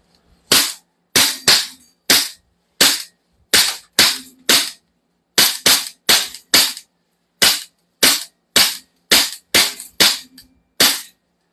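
An airsoft gun fires a long run of sharp, loud cracks in quick bursts of two and three, each snapping out alone against silence.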